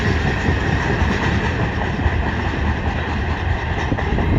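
A CN freight train, the westbound M383, rolls past in New Haven, Michigan, a loud, steady, close rumble of wheels and railcars with faint rhythmic clatter throughout and no voices.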